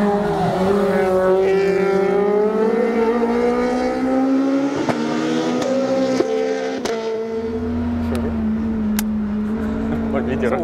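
A Lada VFTS rally car fitted with a Honda engine drives with a loud, steady in-car engine drone that climbs and settles through gear changes, with occasional clicks and people talking over it.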